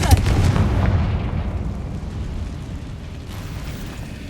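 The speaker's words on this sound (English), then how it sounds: "Confringo." A Confringo fire spell explodes in the Hogwarts Legacy game, a loud broad blast with a booming low rumble that rolls on and slowly decays over several seconds.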